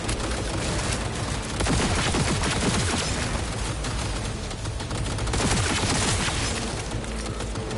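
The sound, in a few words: gunfire in the video game Cyberpunk 2077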